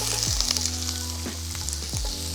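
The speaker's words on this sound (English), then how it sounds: "it's time to put our onions and peppers in, and we hear that sizzle." Onions and peppers sizzle steadily in hot oil in a large skillet, crackling throughout, with a few metallic scrapes and stirring knocks.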